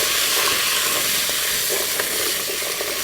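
Vegetables sauteing with turmeric, coriander powder and spices in a pan give a steady, close sizzling hiss throughout, with a few faint stirring clicks and no talk.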